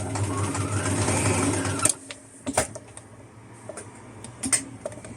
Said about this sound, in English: If you want to control the speed of your sewing machine, you can actually do it with your foot like that.